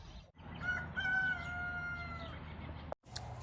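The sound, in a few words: rooster crowing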